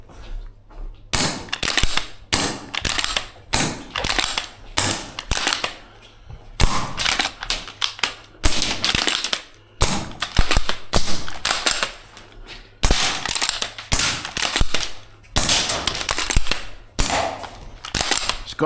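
A VFC URGI V3 gas blowback airsoft rifle fired repeatedly, sharp close cracks in irregular bursts and single shots with short pauses between strings.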